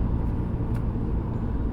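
2007 VW Golf GT TDI with BKD diesel engine held near 3700 rpm, a steady low droning hum with vibration, continuous and even throughout, with no speech.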